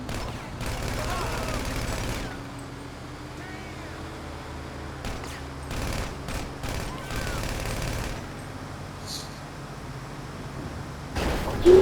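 Bursts of automatic gunfire rattle in rapid volleys in Grand Theft Auto V, coming in several separate strings with short gaps between, mixed with game background noise.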